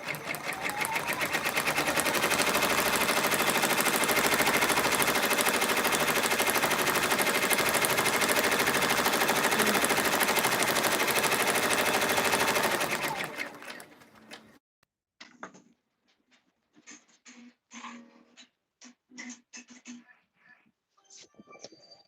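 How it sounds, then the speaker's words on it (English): An embroidery machine stitches the number 3 onto an appliqué shirt with a rapid, even mechanical rattle that runs loud and nonstop for about thirteen seconds, then cuts out, leaving scattered quieter sounds. "So it's stitching out the number 3 now, I think,"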